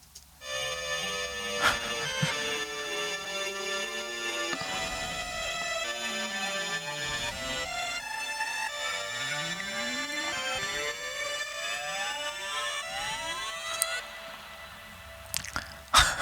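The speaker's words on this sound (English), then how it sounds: "And I used the chorus effect by Native Instruments to spread it out" A looped one-shot sample spread wide with a Native Instruments chorus effect, playing as layered sustained tones with slowly sweeping, wavering pitches for about sixteen seconds, steady in level and without any voices.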